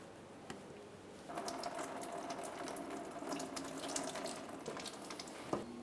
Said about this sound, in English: let's continue on to draining our coolant